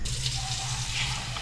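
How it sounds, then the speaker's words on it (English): Tap water runs steadily into a kitchen sink while dishes are being washed, giving a continuous close hiss and gush that stays even and unbroken for the whole stretch, with no talk over it. "Time to wash a few dishes."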